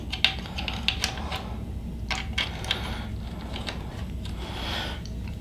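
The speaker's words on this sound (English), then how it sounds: "we're going to have to loosen up our 2 tension bolts, and then we can get that off" Small metallic clicks and ticks from a tool loosening the two tension bolts on an Ender 3 Pro 3D printer carriage, close and fairly quiet, with a brief sharp tap near the start.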